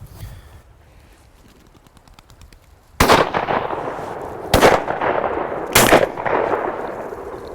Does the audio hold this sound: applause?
no